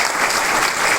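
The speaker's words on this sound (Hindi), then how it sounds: "सब खड़े हो जाइए, इनके लिए तो जोरदार ताली है" An audience at a motivational event bursts into loud, dense applause, a continuous wash of clapping with no pauses across the whole moment.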